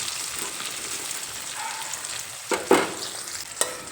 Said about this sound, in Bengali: পেঁয়াজ কুচি দিয়ে একটু নেড়ে ফেটে নেবো এই পেঁয়াজ হালকা নরম হয়ে আসা পর্যন্ত রান্না করে নেব